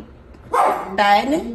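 A pet dog barks twice indoors, loud and close, two sharp yips in quick succession with a person speaking alongside.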